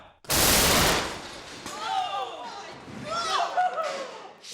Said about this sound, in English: The cannon launched the hook all right.